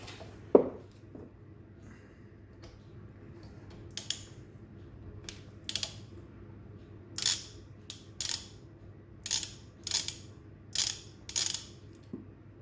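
A bolt is worked loose on the front brakes of a 2000 Audi A4 B5, with a few scattered clicks and then a run of regular ratcheting bursts, close and fairly quiet, no talking.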